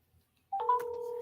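Telephone dialing tones while placing a call: a short chirp followed by a steady dual-pitched tone starting abruptly after a brief silence, quiet and close.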